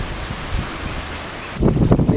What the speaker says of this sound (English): The horrible wind of Sardinia.